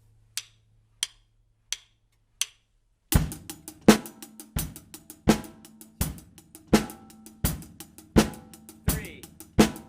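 Drum rock groove for a Canon remix, opening with four count-in clicks over a low hum, then a steady pattern of loud kick, snare and cymbal hits repeating evenly across the measures.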